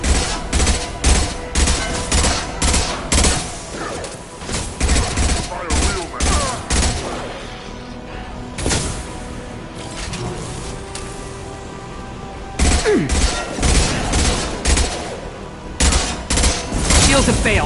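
Weapons fire in the Mass Effect 2 video game in loud, rapid bursts of gunshots, pausing briefly near the middle before heavy firing resumes, with faint game voices underneath.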